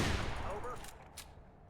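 Gunfire in the video game Mirror's Edge, a loud burst of shots at the start that fades into a decaying echo, with no talk over it.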